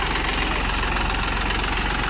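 A Mercedes 430 DI tractor idles close by, its engine making a loud, steady, low chugging with a fast, even knock and no pauses or voices over it.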